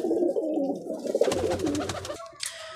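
Breeding pigeons in a loft give soft, low repeated coos close by, overlapping in a steady murmur, joined by a few brighter chirps near the end and no talking.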